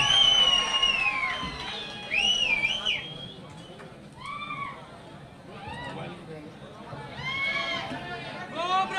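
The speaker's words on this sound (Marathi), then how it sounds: "एकदा हात वरती, जोरदार टाळी आदरणीय एकनाथजी शिंदे साहेबांसाठी." A crowd at a party-joining ceremony in Maharashtra cheers for Eknath Shinde, with loud shrill whistles rising and falling over steady crowd noise and chatter, swelling again near the end.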